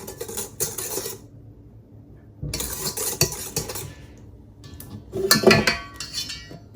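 Biscoff brownie batter being mixed in a bowl in three bursts of scraping and clinking from a utensil, with short pauses between them and the last burst the loudest; close, with no talk.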